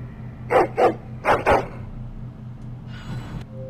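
A dog companion in the fantasy role-playing game Dragon Age: Origins gives two pairs of sharp barks, close and clear over a low steady game background hum, followed by a short faint rustle.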